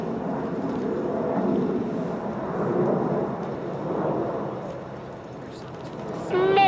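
RAF Red Arrows jets roar through a flying display at EAA AirVenture, a broad sustained rumbling engine noise that swells and fades under a commentator's voice.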